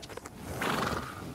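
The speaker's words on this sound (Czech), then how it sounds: "A, divný koně." A horse in the video game The Witcher 3: Wild Hunt gives a single drawn-out whinny, loud and close, rising out of a dull rumbling background.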